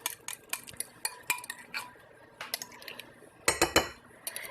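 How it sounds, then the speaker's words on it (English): Mashed bananas are added to banana bread batter and worked in with a utensil against a bowl, producing soft irregular taps, clinks and stirring scrapes at close range, with a brief livelier clatter near the end. "Now we're just going to add the bananas to our mixture."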